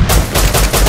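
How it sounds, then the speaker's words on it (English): Pistol shots in the Rust survival game ring out in a rapid burst of several loud, sharp cracks, close and dominant, with no talk over them. "Pistol."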